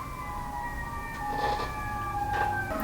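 Sirens from passing fire trucks and ambulances, steady wailing tones rising and shifting in pitch as the vehicles go by, moderately loud with no talk over them.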